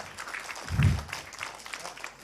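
Brief burst of audience applause at an Islamic religious talk in Indonesia, swelling for about a second then fading into a murmuring crowd under faint voices.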